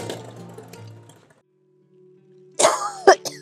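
A woman coughs nearby in a rural Haryanvi home, a short burst of two or three harsh coughs following a quiet pause after speech.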